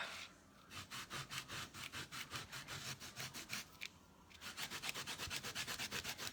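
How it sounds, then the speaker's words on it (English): Steady back-and-forth scrubbing strokes clean off set material, a quick even rhythm of rough rubbing up close, briefly pausing midway before resuming, with no voices. "So I'm just gonna scrub that a little bit."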